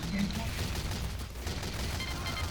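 Rapid gunfire from the video game Team Fortress 2 on the cp_prolab_b1 map, a dense continuous barrage of shotgun and weapon shots filling the whole stretch at steady loudness, with voices talking over it.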